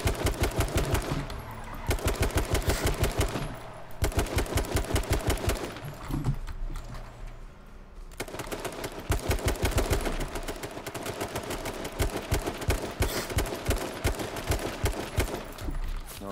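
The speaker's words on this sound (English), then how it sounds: "Being shot from up the hill." Gunfire in the video game H1Z1 fired from up a hill: long bursts of rapid automatic shots come in repeated volleys with brief pauses between them, loud and sustained.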